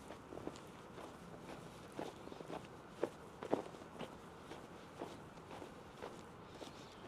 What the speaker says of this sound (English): I'm going to walk back a bit.